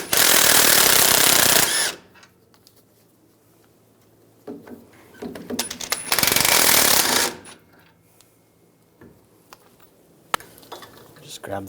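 A power tool with a 21mm socket spins the rear caliper bracket bolts off a 2011-2018 Ram 1500 in two loud, close, rattling bursts, with quiet clinks and handling noise between them.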